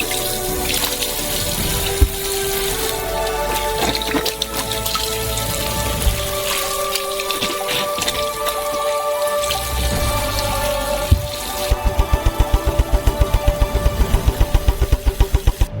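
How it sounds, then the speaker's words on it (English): Oranges are washed in a sink full of water, with continuous splashing and sloshing, then a rapid run of rhythmic knocks near the end. "each orange needs to be thoroughly washed"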